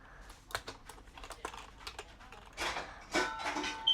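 Keys tapped on a computer keyboard while writing a Python print statement: quiet, irregular close clicks in a quick run, with a denser flurry of keystrokes toward the end, no speech.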